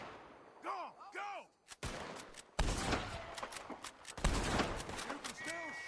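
Gunshots from Red Dead Redemption 2 crack out in sharp, loud bursts amid shouting and chaotic game sounds, with whooping tonal calls in between.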